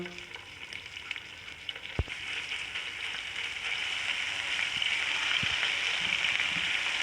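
Steady sizzling of fresh crushed garlic and ginger frying in hot oil, a broad hiss that builds slightly louder over time, with a couple of faint clinks.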